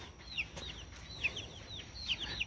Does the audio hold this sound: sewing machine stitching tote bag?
no